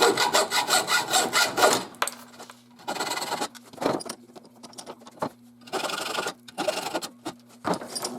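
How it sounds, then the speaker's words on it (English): A hacksaw cuts off the metal pins of a knife handle in rhythmic bursts of rasping strokes. Short pauses separate the bursts, with a faint steady hum underneath. "I'm going to use the hacksaw to cut off our pins."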